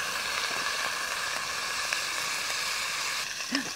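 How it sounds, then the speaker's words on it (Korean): Pork belly sizzles over a fire pit grill at a solo campsite, a steady dense crackle and hiss with small pops, moderately close and with no voices over it. "지글지글 소리가 엄청 맛있게 들립니다"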